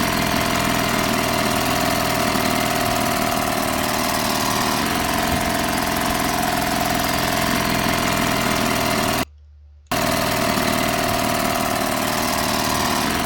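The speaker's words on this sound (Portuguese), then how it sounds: "Motor de motosserra." A small wooden boat's motor in the game Martha Is Dead, a loud, steady buzzing engine drone with a harsh chainsaw-like rasp, droning continuously apart from a brief cut to silence.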